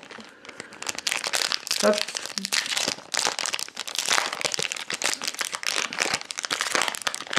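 A Yu-Gi-Oh booster pack is torn open, its foil wrapper crinkling and crackling in busy close bursts while someone talks in French over it.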